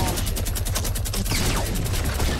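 Minigun fire in Fortnite, a dense rapid stream of gunshots running loud and continuous throughout, with a brief sweeping whoosh partway through.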